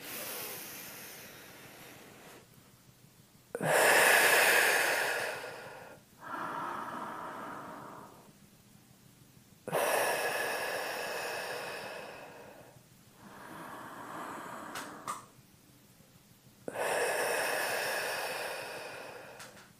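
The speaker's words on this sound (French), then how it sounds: "Vous allez inspirer et levez les épaules le plus haut possible, très doucement quand même. Et vous soufflez." Slow deep breaths during a shoulder-relaxing face-yoga exercise, a few long airy inhales and exhales alternating with short quiet gaps, close to the listener and fairly loud.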